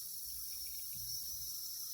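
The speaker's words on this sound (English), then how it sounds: "I'm actually putting water in the bag" Water runs steadily into a Louis Vuitton bag being cleaned, a soft continuous hiss and trickle that stays faint and close throughout.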